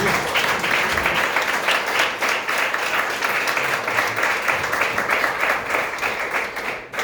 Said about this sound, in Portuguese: Aplauda Jesus mais uma vez.